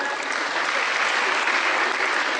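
An orientation audience breaks into dense, steady applause, many hands clapping together at an even volume throughout, close and full with no voices standing out.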